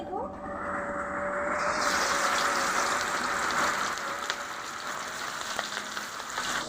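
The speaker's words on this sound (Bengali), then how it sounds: "আমি ঢাকা দিয়ে মাছগুলো ভেজে নিব" Pieces of hilsa fish fry in hot oil in a pan, giving a steady close sizzle and hiss that holds for several seconds, with faint kitchen clatter underneath.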